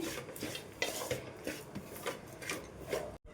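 Salt being mixed into cooked pepper rice, giving soft rhythmic rubbing and scraping strokes against the vessel, close and fairly quiet, briefly cut at the end.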